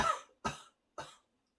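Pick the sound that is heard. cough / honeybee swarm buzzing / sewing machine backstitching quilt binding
cough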